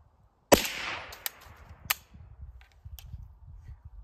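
A single sharp, loud supersonic rifle shot from a Resilient Putnik fired outdoors, followed by a long rolling echo and a few faint distant reports fading away.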